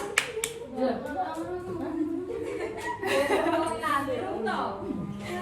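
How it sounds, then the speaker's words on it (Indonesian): Students in a classroom clap their hands: a few sharp claps at the start, then scattered claps under lively children's chatter and laughter. "Tepuk tangan ya Mbak Tias"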